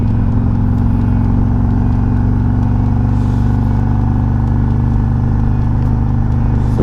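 Harley-Davidson Road Glide 3 motorcycle accelerating toward highway speed, its engine a loud, steady, deep rumble with continuous wind and road roar and no talking.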